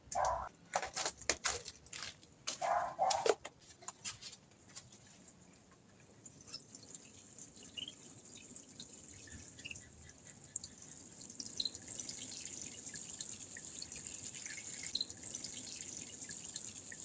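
Water poured from a can or hose onto newly planted potatoes in a garden bed, with a few splashy drips at first, then a steady soft trickle and hiss that grows slightly louder over time, with no talking.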